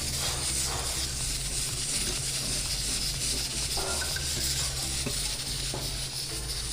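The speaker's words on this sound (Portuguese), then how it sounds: "Vou mexer agora com o fouet para soltar qualquer coisa que possa ter aqui embaixo da panela." Metal whisk stirring soup broth in a pot, loosening bits stuck to the bottom, a continuous scraping, swishing rub with a steady sizzle-like hiss throughout, close and fairly loud.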